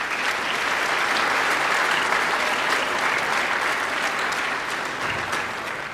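Sustained audience applause fills a high school Veterans Day program, dense and steady throughout with no talking over it.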